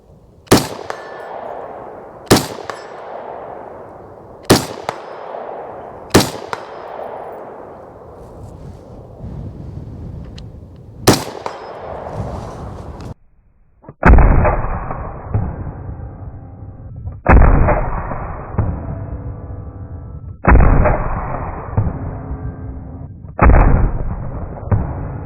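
Ruger AR-556 MPR rifle fired at an outdoor range: a string of single sharp reports with ringing decay, spaced a few seconds apart, then a few heavier booms, loud and close.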